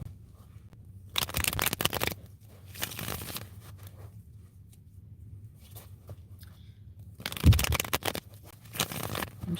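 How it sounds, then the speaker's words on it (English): Tarot cards are shuffled close up during a reading, several distinct riffling bursts of papery flutter separated by quieter handling, with one louder burst near the end. "I'm shuffling for you, don't be fooled."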